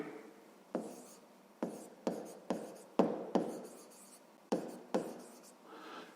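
Chalk or marker strokes on a board during a fifth-grade math lesson, about a dozen short, sharp scratchy strokes in irregular bursts, close and clear with no talking.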